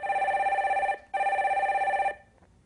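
A telephone ringback tone on a connecting call sounds two long, loud electronic trilling rings separated by a brief gap, steady and close, with no voices over it.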